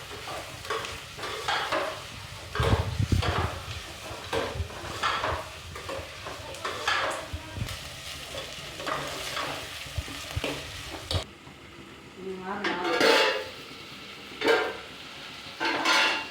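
A sweet potato curry is stirred in a frying pan, with repeated scraping strokes of a spoon over soft sizzling and occasional clinks of metal cookware, fairly quiet and close.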